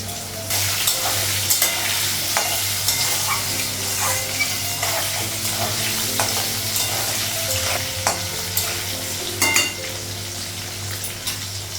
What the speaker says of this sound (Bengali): পেঁয়াজটা রসুন বাটাটা লাগালাম কাঁচা লঙ্কা বাটা লাগবে